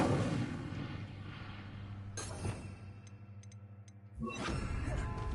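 A fire spell cast in Hogwarts Legacy: a sudden whooshing burst with crackling sparkle midway, a quieter stretch with small chimes, then a second loud flaring rush, all over a steady low game hum.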